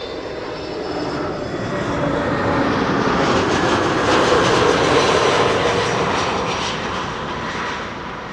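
An EasyJet passenger jet lands at Schiphol airport, arriving from Bristol: a steady, loud broadband engine roar that swells toward the middle and eases slightly at the end, with no talk.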